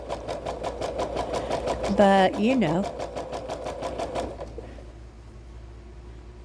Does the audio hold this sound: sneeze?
no